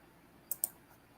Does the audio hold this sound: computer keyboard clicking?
yes